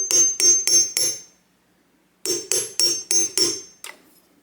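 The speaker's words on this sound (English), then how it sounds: "hammer it out" Sharp metallic hammer strikes on a punch driving a pin out of a KitchenAid stand mixer, four quick blows, a pause, then five more and a final lighter tap, close and loud.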